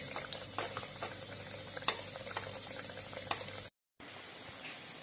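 Paneer jalebi fries in hot oil with a steady crackling sizzle and scattered pops. The sound is close and fairly quiet, and it cuts out briefly near the end before resuming.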